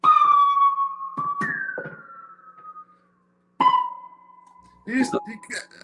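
Electronic pings from a drum synthesizer with a sliding, sonar-like underwater tone ring out and fade with reverb, a few separate hits followed by a burst of choppier synthetic blips.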